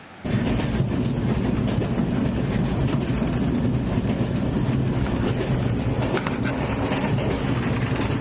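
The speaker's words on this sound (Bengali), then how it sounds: "আমাদের কাজিরাঙা এক্সপ্রেস ছুটে চলেছে নিজের গন্তব্যের দিকে" The Kaziranga Express rumbles along the rails, loud and close, in a constant steady roar with faint rhythmic clatter.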